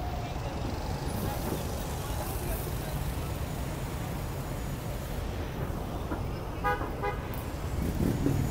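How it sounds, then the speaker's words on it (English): Busy Times Square street traffic in New York fills the scene with a steady roar of cars and buses, and a couple of short car horn toots stand out near the end, with voices in the crowd around. "Fun bits, traffic."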